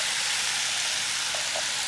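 Drained pasta hits a hot skillet with pancetta or prosciutto, giving a dense, even sizzle that holds steady and close with no talk.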